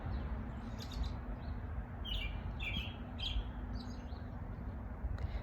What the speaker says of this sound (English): I can give you 5 minutes of just listening to this bird